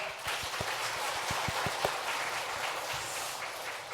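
Congregation clapping during a Sunday church service in Korea, a broad, steady wash of many hands with a few sharper nearby claps, moderately loud and continuous with no talk.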